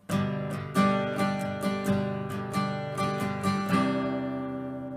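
Acoustic guitar strummed in a steady rhythm while shifting between chords for a song, close and clear, ringing out at the end with no voices.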